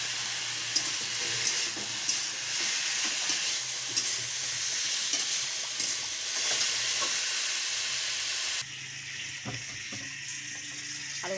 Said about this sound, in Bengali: আলু ভাজাটা হয়ে যাচ্ছে